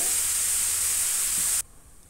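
Milk being poured into a hot kadhai, giving a loud, steady hiss and sizzle for about a second and a half before it cuts off abruptly into quiet.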